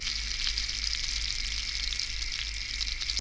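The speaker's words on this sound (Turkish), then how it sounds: "Tavama 1 yemek kaşığı tereyağı aldım. Eritiyorum." Butter melts and sizzles in a frying pan, a steady hissing fry at close range that holds evenly throughout, with no voices.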